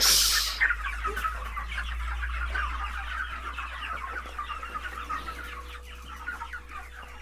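A flock of broiler chickens clucks and murmurs continuously close by, with busy overlapping calls over a low steady hum and a brief sharper noise at the start.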